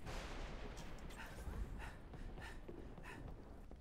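Grenade blasts and gunfire in the video game Halo: Reach, heard as a dense, continuous wash of battle noise with repeated bursts and muffled booms blending together under steady rumble.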